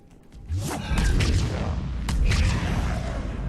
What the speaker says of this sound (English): that was like a triple biotic explosion